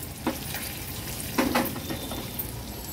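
Tempering of chillies and white sesame seeds sizzling in hot oil in a pan over medium flame for rava dhokla, a steady frying hiss with a couple of brief louder crackles.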